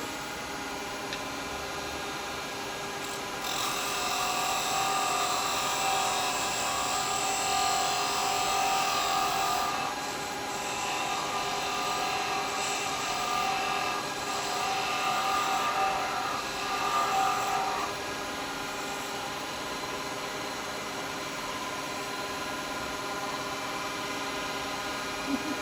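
Wood lathe spinning steadily while a detail chisel cuts into a jewellery box of mixed woods, a continuous hissing scrape with a few stronger cutting passes over the motor's hum, close and moderately loud.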